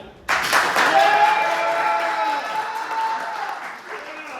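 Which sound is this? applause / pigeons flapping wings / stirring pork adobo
applause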